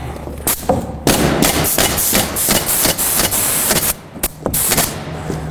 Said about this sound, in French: Je viens clouer ma feuille tout le tour.